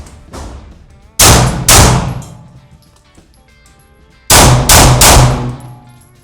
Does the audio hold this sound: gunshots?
yes